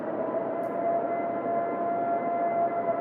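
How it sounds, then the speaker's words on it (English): A distant siren wails in a steady, sustained tone, faint and far off, with no voices. "kind of sounds like a siren to me"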